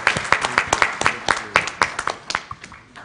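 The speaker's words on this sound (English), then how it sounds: "May I ask for a round of applause for our very great moderator, Fiona, for doing a great job." Applause for the panel moderator at the launch of the Rwanda Governance Scorecard fifth edition at Kigali Serena Hotel, a loose scattering of individual claps with an uneven rhythm, moderately close, over about three seconds.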